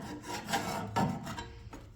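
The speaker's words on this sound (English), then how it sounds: "there'll be a bevel to the blade, on the blade, and you just follow it with a file" A hand file rasping along the beveled edge of a lawnmower blade clamped in a vise, with a few close, steady strokes and nobody talking.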